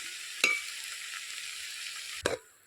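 Onions for a chicken curry crackle in a pan with a low continuous sizzle, marked by two brief sharp knocks of a utensil.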